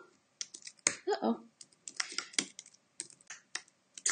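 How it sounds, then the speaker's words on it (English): Quick bursts of clicky keystrokes on a computer keyboard as a web address is typed, uneven clusters of taps close up with brief pauses between them. "I'm going to type it in where you can go right now"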